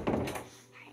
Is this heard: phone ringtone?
no